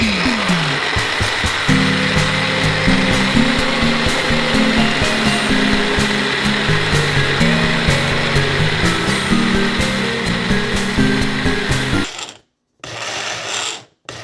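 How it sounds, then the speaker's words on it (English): A blender grinds oatmeal and peanut butter in a loud, continuous whir lasting about twelve seconds, its pitch shifting as the mix churns, then cuts off and briefly restarts for a short final pulse. "we're gonna blend this"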